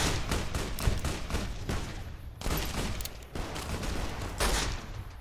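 Gunfire from Powder Gangers in Fallout: New Vegas, a rapid series of loud, close shots and bursts, some booming, continuing without pause.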